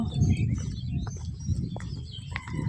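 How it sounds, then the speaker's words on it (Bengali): Birds chirp and tweet over green countryside, with pigeon-like coos underneath, a dense, continuous chorus fairly close, with no talk. "দেখছো পাখির কিচিরমিচির শব্দ"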